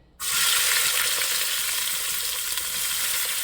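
Onion hitting hot coconut oil in a pan, an abrupt loud sizzle that bursts in and then holds as a steady close frying hiss, with no voices.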